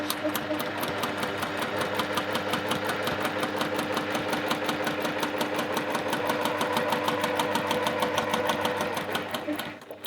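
A sewing machine fitted with a leg-operated presser foot lifter stitches a Y seam, running in a steady, fast needle rhythm for nearly ten seconds before slowing to a stop at the end.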